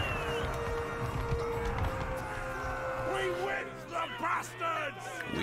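Horse hooves from the Mount & Blade II: Bannerlord video game, steady clip-clop under game music and ambient battle noise, with someone talking over much of it.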